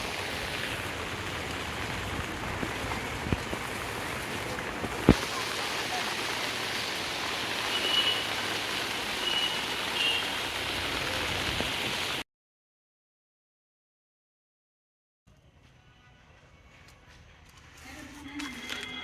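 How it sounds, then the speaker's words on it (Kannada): Heavy rain pours steadily on a hanging bridge on a Kudremukha range trek in Chikkamagaluru, Karnataka, a dense continuous hiss that cuts to silence partway through and then returns more faintly. "ಬಟ್ ಫುಲ್ ಮಳೆ ಬರ್ತಿದೆ, ತುಂಬ ಜೋರು ಮಳೆ"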